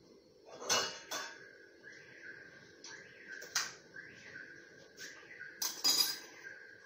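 A cooking pot being handled for making sugar syrup for suji gulab jamun, giving several close metallic clanks and clinks of kitchen utensils in a quiet kitchen.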